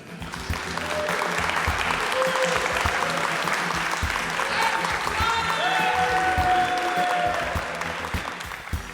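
Steady applause from a live event audience in Boca Raton, a sustained dense patter of clapping that swells and holds for several seconds, with a few scattered voices and whoops mixed in.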